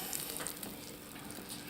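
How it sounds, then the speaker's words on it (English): A steak and mushroom pie fresh from the oven gives off a faint, continuous crackling sizzle, soft and close, with no voices over it. "It's still sizzling."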